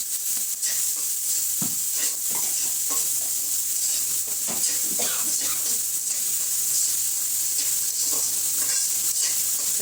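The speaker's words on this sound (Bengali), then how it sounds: "এই কড়াইতেই আমি শাকটা বাগার দিচ্ছি" Greens with garlic and onion sizzle hard in a large wok, a dense continuous hiss broken by scraping, clattering stirs of a spatula, close and loud without speech.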